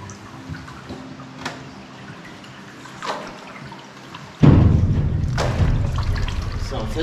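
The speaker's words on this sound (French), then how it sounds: "D'ici, on entend la cascade" A waterfall in the Labouïche underground river cave bursts in as a loud, steady rush partway through, after a quieter stretch of dripping and faint thuds, with a voice speaking nearby.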